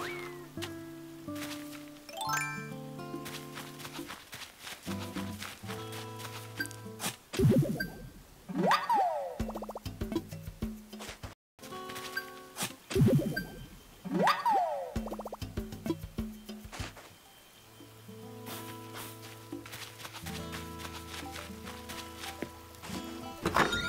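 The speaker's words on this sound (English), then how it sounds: "Door sound they added to it, because before it was just a little bell." Animal Crossing: New Horizons door effects play as bouncy plops, thunks and little chimes, repeating in bursts over light, tinkling game music with no talking.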